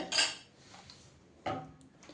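A metal spoon clinks twice against a small bowl while rose water is measured out, two short bright taps separated by a quiet pause in an otherwise still room.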